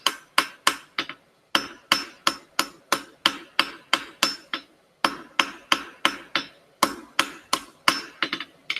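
Steady hammer blows ring on steel at the edge of an anvil while a diamond point is forged, loud sharp strikes in quick regular runs with short pauses between.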